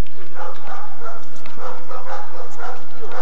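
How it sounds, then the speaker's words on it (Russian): A dog barks repeatedly while attacking in a Superring protection sport competition, the barks rising from a loud, distorted crowd and arena din that fills the whole recording. "Посмотрите, как прекрасно атакует эта собака."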